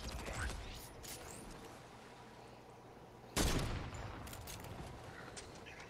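Fortnite gunfire crackles in sporadic bursts, with a sharp loud volley midway that trails into scattered shots and mechanical clatter, under a faint game background.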